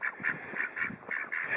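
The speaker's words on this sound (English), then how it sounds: "these ducks want to come out" Ducks in a pen quack in a quick series of nasal honks, about eight calls in bursts, close and fairly loud with no talk.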